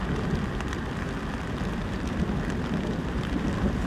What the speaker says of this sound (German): Der Regen muss weg,